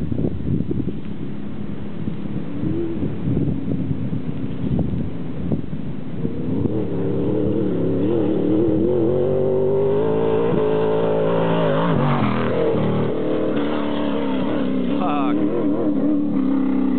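An off-road race vehicle in the Baja 1000 approaches and roars past, its engine climbing in pitch and growing louder under wind buffeting, while people talk nearby.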